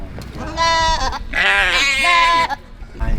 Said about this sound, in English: We got baby doll sheeps, baby Nigerian goats, dwarf goats, mountain goats.